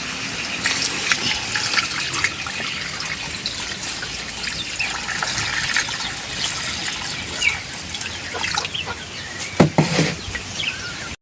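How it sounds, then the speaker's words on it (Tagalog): Water gushes steadily into a cooking pot of pork skull being stewed with jackfruit, a continuous close pouring rush lasting several seconds, with a rooster faintly audible and a brief clatter near the end. "Tubig."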